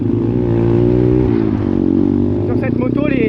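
A 125 RS Factory two-stroke dirt bike engine buzzes loudly up close, holding a raspy drone before revving higher in sharp pulses near the end, with someone talking over it.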